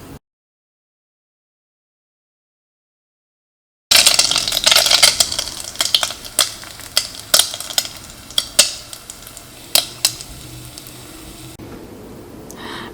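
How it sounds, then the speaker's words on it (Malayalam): A potato, egg and bread snack fries in hot oil, heard as a sizzling hiss with sharp metallic clinks from a utensil; it starts after a few seconds of silence and the clinks come irregularly. "ഈ ബാക്കിയുള്ളതും ഇതേപോലെ തന്നെ ഫ്രൈ ചെയ്തിട്ട് എടുക്കുക"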